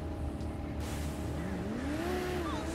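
A Porsche 911 and a Lamborghini race in GTA 5, one steady engine drone at moderate distance that rises in pitch as the car accelerates, with no one talking.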